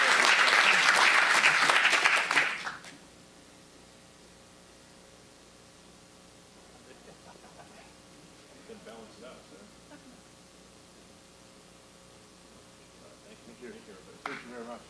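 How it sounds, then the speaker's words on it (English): Audience applause at a gathering, loud and dense for the first few seconds, then cutting off abruptly into a quiet room with faint voices and a brief swell near the end. "Let's give them a round of applause."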